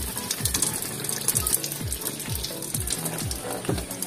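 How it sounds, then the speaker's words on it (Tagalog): Water gushes through the filter hose of a Panasonic automatic washing machine during filter cleaning, a steady splashing rush with a repeating low pulsing throb underneath, no talking. "Para tumagos dito yung tubig."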